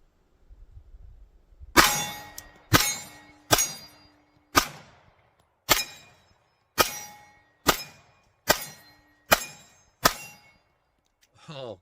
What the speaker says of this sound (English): Let's go ahead and throw some rounds down range. Crush some steel targets with this bad boy.